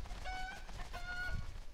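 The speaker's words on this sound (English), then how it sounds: "there's a chicken on the roof" A chicken clucking from a rooftop in the video game The Legend of Zelda: Breath of the Wild, a few short clucks over a low rumbling in-game background.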